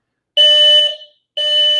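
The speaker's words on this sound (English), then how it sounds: "Fire alarm going off here." Building fire alarm going off: two loud, piercing steady electronic tones, the first about three quarters of a second long and the second starting after a short gap, close and alone with no talk.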